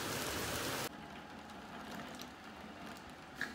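Steady rain patters outdoors on a hot, heavy summer day, a loud broadband hiss that abruptly drops to a softer, continuous drizzle-like wash with a few faint drips near the end.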